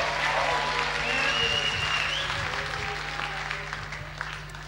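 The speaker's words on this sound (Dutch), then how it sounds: "Een applaus" Full applause fills the room at a Dutch talent show results event, loud and sustained, fading slightly toward the end.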